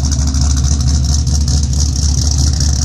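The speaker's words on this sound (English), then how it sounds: "Got that rough idle." A 2005 Ford Mustang GT with a Comp Cams Mutha Thumpr cam, Bama tune and no catalytic converters idles roughly, its loud exhaust holding a steady, lopey burble close by throughout.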